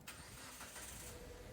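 A Proton Saga with a faulty relay cranks and starts up again. The burst of engine noise is brief and faint.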